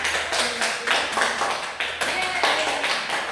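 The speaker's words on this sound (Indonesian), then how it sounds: "Tepuk tangan anak-anak." A group of children in a classroom claps in a loose, rhythmic pattern of bursts, with voices mixed in among the claps.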